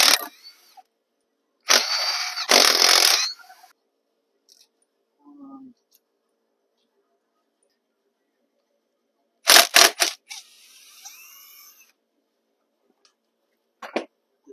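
Hand tools work crankcase bolts on a Suzuki quad engine, giving short bursts of ratcheting and metallic clicking separated by long quiet stretches, close by, with a faint murmur between.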